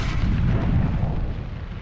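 A heavy, booming tank cannon shot in War Thunder on a Sinai desert map, loud and close, with a deep rumbling tail that fades over about two seconds.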